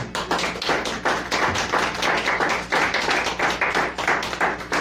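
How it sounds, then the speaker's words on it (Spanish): A church congregation clapping hands in praise, a loud, dense roomful of claps in rhythmic surges that keep going throughout, close and reverberant, with no talking over it. "Den una ofrenda de palmas al Señor"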